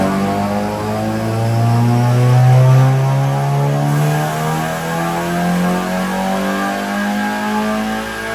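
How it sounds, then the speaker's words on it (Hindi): A Toyota Corolla R18 fitted with nitrous revs hard on a dyno, its engine note climbing and swelling to a loud peak before holding a steady, droning roar, with no voices. "अब गाड़ी पे फिर नाइट्रस चला के चेक करते हैं कि गाड़ी कितनी पावर बनाती है।"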